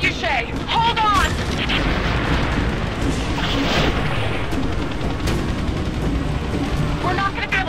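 In Rise of the Tomb Raider, a trebuchet hurls a fireball with heavy booming, rumbling blasts that fill the stretch, while in-game voices and chirping effects sound over the start and end.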